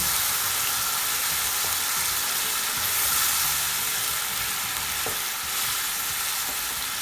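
Minced meat with plenty of added water boiling in a pot for kuymak gives a steady, close bubbling hiss with a few small sputters, continuous throughout with no talking.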